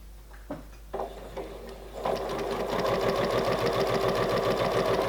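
A sewing machine runs steadily, stitching fabric with a rapid mechanical rhythm, close and loud, after a few soft handling knocks at the start.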